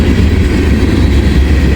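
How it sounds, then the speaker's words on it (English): A northbound CSX freight train rolls past, a steady, loud low rumble with a faint rhythmic rail clatter that holds evenly throughout, with no voices. "Sounds like we got a northbound train on CSX as well"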